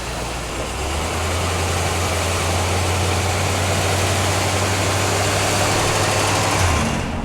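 A car engine idles steadily inside a closed garage with a constant low hum, close and loud, and a slight rise near the end as it revs briefly before cutting off.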